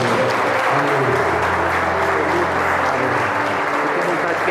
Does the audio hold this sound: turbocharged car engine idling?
no